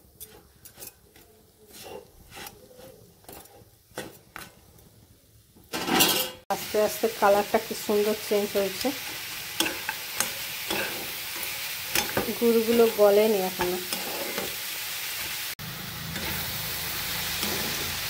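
Jaggery and grated coconut are stirred in a pan, spoon scraping and clattering against the metal over a sizzle that grows louder and busier partway through, while someone talks quietly at times.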